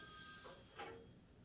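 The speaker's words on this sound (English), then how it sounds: "What's that? Is that the phone?" A telephone rings faintly in an office setting, a soft electronic tone heard alone at low level.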